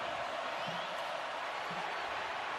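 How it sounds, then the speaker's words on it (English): Stadium crowd at an Iron Bowl college football game between Auburn and Alabama, a dense sustained roar filling the background, with a commentator's voice faintly over it. "Crowd roared"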